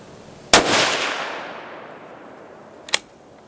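A single sharp rifle shot from a Howa 1500 chambered in 6.5 Creedmoor and fitted with a muzzle brake, fired outdoors with a long fading echo. A fainter, shorter crack follows about two seconds later.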